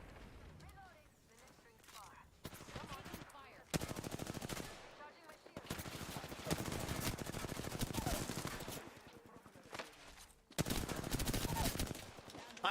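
Rapid bursts of hip-fire automatic gunfire in Apex Legends during a ranked match, several loud rattling volleys separated by short pauses, with a voice talking intermittently alongside.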